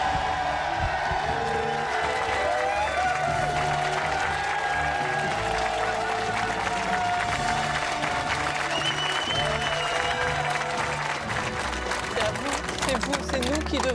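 Sustained applause from a gathered crowd honouring volunteers who helped finish a family house, dense steady clapping filling the whole stretch with scattered voices and cheers mixed in.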